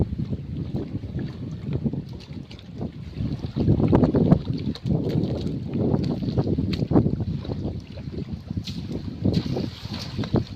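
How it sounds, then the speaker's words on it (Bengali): Strong wind on a small river fishing boat, gusty low rumbling buffeting that rises and falls, close and loud, with light water sounds and no clear talk. "প্রচণ্ড হাওয়া।"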